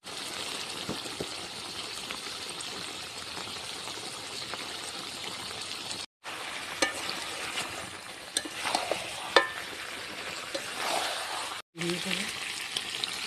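Potatoes frying in hot oil for mutton kosha: a loud, continuous close sizzle with occasional stirring scrapes and two brief drops to silence.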